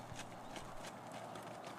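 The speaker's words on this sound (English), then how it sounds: "Now Michelle goes into a lope, also called a canter." Hooves of a horse loping, or cantering, in a steady rhythmic clip-clop, faint and set back in the distance over a wide hiss of background noise, with no talking.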